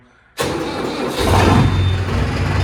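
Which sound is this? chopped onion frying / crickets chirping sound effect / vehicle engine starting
vehicle engine starting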